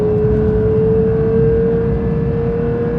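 Porsche 911 GT3 engine pulling hard as the car accelerates into a corner, a loud, sustained close-up drone with a steady pitched tone and no talk.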